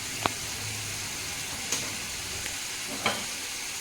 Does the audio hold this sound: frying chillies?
yes